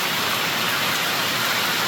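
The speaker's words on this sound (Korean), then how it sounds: "우박이 떨어져." Hail pours down hard on a mountain road, a dense, continuous hiss and patter with no break, loud and close, with no voices over it.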